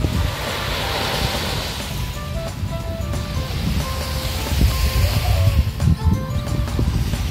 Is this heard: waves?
yes